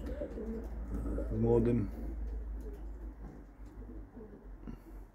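Pigeons in a loft give a low, throaty coo near the start, then a softer one later. Someone speaks Polish close by over the birds.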